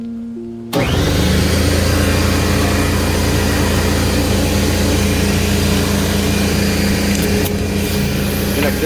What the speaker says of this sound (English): I'm going to turn on this air compressor